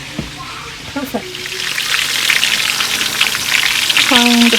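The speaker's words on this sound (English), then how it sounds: "Frying the plantains," Plantain pieces fry and sizzle in hot oil in a pan, a dense crackling hiss that builds and stays loud and close, with a few brief clinks and a short tone near the end.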